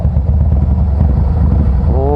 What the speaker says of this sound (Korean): 배기음도 이거 너무 좋네. 이거 슈퍼트랩, 지금 가변 슈퍼트랩을 지금 장착해 놨습니다.